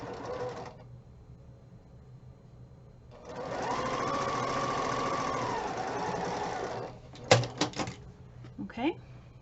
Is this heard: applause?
no